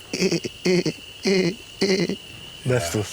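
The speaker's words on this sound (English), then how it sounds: "Those are leopard frogs and bronze frogs." Repeated bursts of throaty bronze frog calls in short pulsed phrases, about five separate calling bouts with brief pauses between, fairly close over a steady high insect drone.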